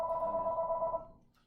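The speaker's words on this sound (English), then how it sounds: "Sorry about the phone call." A telephone rings with a single sustained electronic tone that cuts off after about a second and fades into quiet, heard alone without talk.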